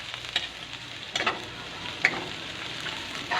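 Carrots and other vegetables fry in a home cook's pan with a continuous crackling sizzle, punctuated by a few sharp utensil scrapes and clinks, close and fairly loud, with no voices.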